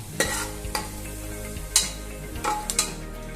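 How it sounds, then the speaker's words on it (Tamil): Cashews frying in a pan of oil for white veg pulao, a continuous close sizzle broken by several sharp scraping stirs of a spoon against the pan. "இது நல்லா சேர்ந்து கோல்டன் கலர் ஆகட்டும்"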